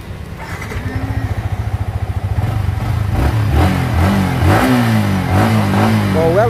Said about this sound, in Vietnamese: Bô rất là đầm ấm luôn nha quý anh chị ha. Đó, máy móc ok ha.